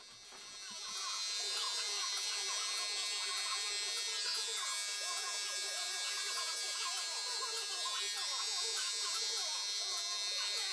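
Electric hair clippers fitted with a 1.5 guard cut a high taper, giving a steady, close buzz that runs throughout with someone talking over it.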